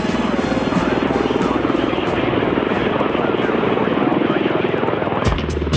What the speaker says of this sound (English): The two-seat S-47 Sikorsky helicopters entered service in the US and the British armies already in the course of the war.